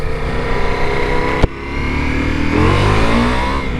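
Ducati Multistrada V4 S motorcycle on a ride: a loud, close engine roar that holds steady, breaks once with a brief sharp knock, then climbs in pitch as the rider accelerates.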